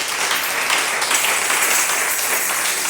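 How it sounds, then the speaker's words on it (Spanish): A church congregation claps loudly and continuously, a dense wash of many hands applauding together that fills the room for the full stretch. "denle fuertes palmas al Rey de Reyes"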